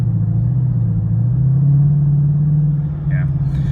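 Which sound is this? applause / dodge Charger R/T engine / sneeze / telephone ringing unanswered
dodge Charger R/T engine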